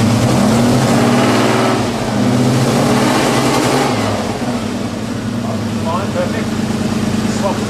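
A Nissan Skyline engine idling and being revved slowly during an ignition timing check, a loud close rumble that swells and settles, with people talking over it.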